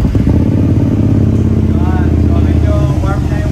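A CFMoto SVT 650X motorcycle with a new exhaust idles loudly and close, engine warm, with a deep, throbbing exhaust burble, then a couple of quick rising revs near the end.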